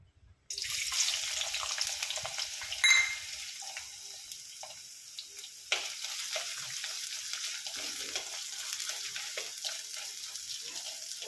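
Thinly sliced coconut hits hot coconut oil in a pan and starts frying with a sudden, steady crackling sizzle that keeps going, softer in the middle and briefly louder again.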